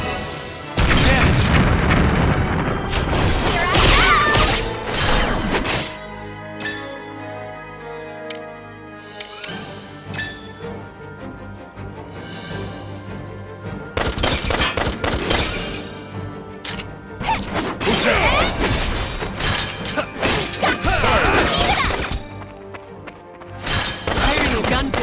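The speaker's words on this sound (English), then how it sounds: "Firing a gun feels amazing" Gunfire in the Valkyria Revolution video game, heard as loud booming blasts in clusters with a quieter music-backed stretch between them.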